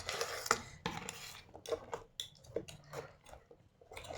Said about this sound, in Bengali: একটা হাতার সাহায্যে সুন্দর করে সব জিনিসগুলোকে মিশিয়ে নেওয়া হচ্ছে